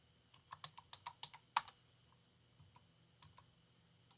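A computer keyboard is typed on during a Debian install, a quick run of distinct, close key clicks followed by a short pause and a few scattered taps.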